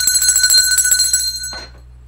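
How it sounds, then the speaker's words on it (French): A bell rings in quick, rapid strikes for about a second and a half, loud and close, its bright metallic tone then fading into silence. "Cloche."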